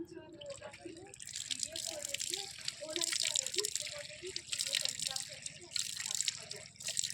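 Cold water runs and splashes from an outdoor tap in a park, a steady hissing flow close by with people talking over it.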